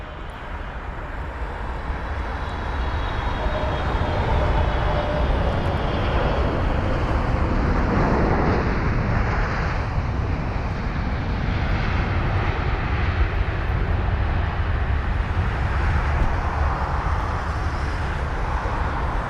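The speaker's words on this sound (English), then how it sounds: "Now we've got an American Airlines 777-300ER from Los Angeles LAX up next." An American Airlines Boeing 777-300ER landing at London Heathrow, its engines a broad, steady roar that builds and holds loud for a long stretch as the jet passes close by, with light wind noise.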